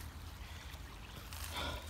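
Backyard creek water flowing and trickling past a forest edge, a steady low wash with a brighter splashing swell near the end, fairly close and with no voices.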